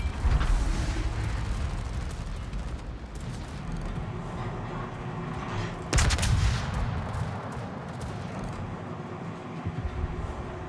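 Japanese heavy cruiser with 310mm guns firing high-explosive shells in World of Warships, a steady roar of repeated gunfire and battle noise with a louder blast burst midway, no talk.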